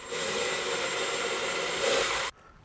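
A power drill bores a pilot hole while mounting a Micro-Air RV thermostat, giving a steady, close whir for about two seconds before it stops abruptly.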